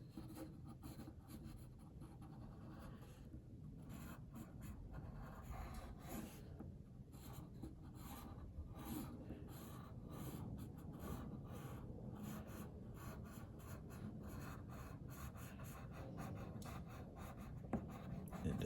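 Pencil stroking loosely across paper during a squiggle warm-up sketch, a steady close scratchy rubbing that runs continuously with small shifts in pressure and no talking.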